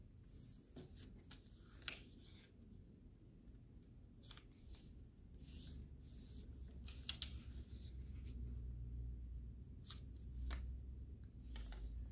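Felt-tip marker scratching colour onto folded origami paper for a gift box, soft rubbing strokes in short bursts close by, over a low background hum.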